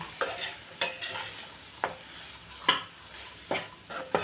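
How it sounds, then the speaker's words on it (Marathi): Vegetable pulao masala with mint leaves fries in a pan, a soft sizzle broken by sharp scraping stirs of a spoon at irregular intervals, close and alone. "पुदिन्याची पाने टाकू, कोथिंबीर शेवटला टाकू। चांगलं फ्राय होऊन देऊ।"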